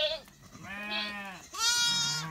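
Lambs and sheep, including Dorper ewes and newborn lambs, bleat on a farm with two or three wavering calls, fairly close and clear, with no talking.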